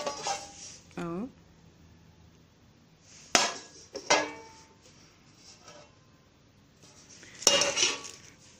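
Metal serving trays and other kitchenware clattering as they are handled in a kitchen: a few sharp metallic clanks and rattles separated by quiet gaps, with a voice speaking between them.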